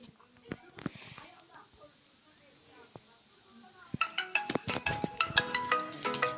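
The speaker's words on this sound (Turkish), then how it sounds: "Bir dakika telefonum çalıyor." A mobile phone ringtone chimes in a rapid, bright melodic pattern that starts partway through and repeats steadily to the end, following scattered faint clicks and clinks.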